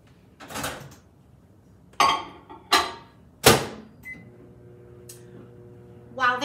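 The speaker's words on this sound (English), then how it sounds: "that's gonna take about 3 minutes in the microwave" A kitchen microwave oven heating food for about three minutes, with a low steady hum starting partway through. Before it, sharp clunks and clatters of the door and dishes sound close by, and a beep comes at the end.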